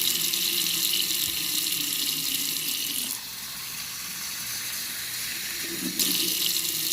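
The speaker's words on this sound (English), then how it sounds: "So now what I do is I put it on cold water, and I fill it up to about there." Cold water pours from a tap into a container in a steady, close rush of running water, dipping slightly in level midway as the stream changes and then swelling again near the end.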